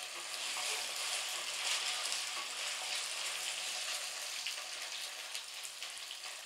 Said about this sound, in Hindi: अब हमने डाल देनी है अपनी अरबी इसको हमने फ्राई करना है